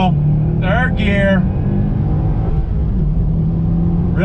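A Subaru S209 pulls hard on throttle in third gear, its engine a loud, continuous droning rumble that holds steady over the whole stretch, with brief voice fragments early on.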